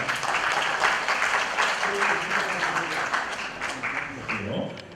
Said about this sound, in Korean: 뜨거운 박수로 격려해 주시기 바랍니다.